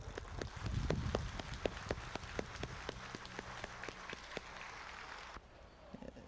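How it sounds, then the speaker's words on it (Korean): Scattered applause from an audience at a Won Buddhist Dharma master retirement ceremony, with sharp individual claps over a steady rain-like wash of clapping, fading toward the end and briefly joined by a murmur of voices. "감사의 박수로서 대신하겠습니다"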